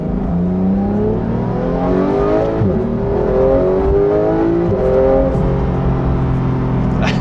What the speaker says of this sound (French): Et là, on écoute le flat 6.